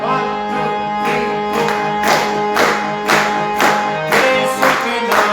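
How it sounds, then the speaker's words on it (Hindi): Loud rhythmic clapping from a congregation at a church praise and worship service, in a regular beat over sustained music. "तालियां जरा जोरदार"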